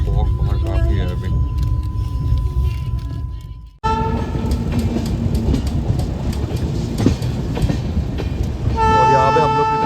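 A Bikaner–Sealdah Duronto Express rolls into Gaya Junction with a steady rumble and clatter of railcars. Horn tones sound loud and close partway through and again at the end, while someone talks over the din.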